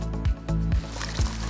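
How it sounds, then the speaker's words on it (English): Red cabbage drops into a pot of water, making three dull, wet squelching thumps about half a second apart, close and fairly loud over a steady background hum, with no talk. "we're gonna put this red cabbage into this pot of water."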